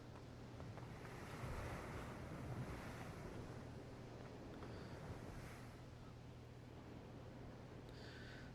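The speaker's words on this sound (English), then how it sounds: "I guess those were just ocean noises." Ocean surf in a video game rolls as a continuous soft wash of waves with a low steady drone underneath, distant and fairly quiet, no talking.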